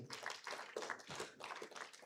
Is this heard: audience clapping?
yes